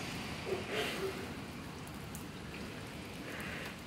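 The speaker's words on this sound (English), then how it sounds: "It's pouring rain" Heavy rain pours outdoors by a backyard fence, a dense, even hiss of falling water that holds steady throughout, fairly quiet, with a faint murmur of voice underneath.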